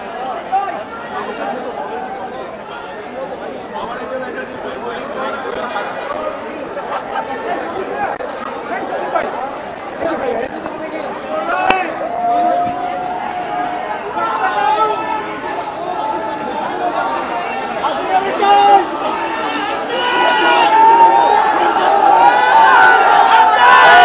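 Football supporters in a stadium crowd chant the name of player Hamza during a match in which Bangladesh beat India, a dense, continuous roar of many voices that swells louder toward the end.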